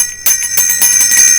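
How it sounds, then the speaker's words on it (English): A bright notification bell sound effect, a quick series of loud metallic rings that shimmer and ring on, alone with no voice. "ring that notification bell"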